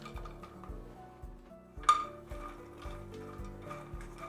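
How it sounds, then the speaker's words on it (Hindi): Fox nuts (makhana) dry-roasting in a pan make light rattling, stirring and clinking sounds, with one sharper clink, over soft background music. "मखाने मैंने पैन में डाल दिए हैं,"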